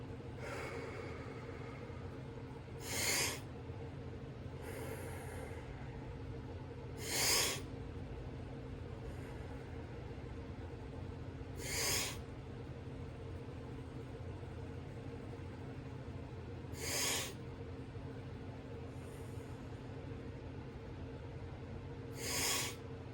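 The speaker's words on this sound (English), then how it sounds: "just take really quick and big inhales. We'll do about 5 of them, and inhales and exhales" Deep, rapid breathwork inhales and exhales sound as five strong, breathy whooshes spaced a few seconds apart, close to the microphone, over a low steady room hum.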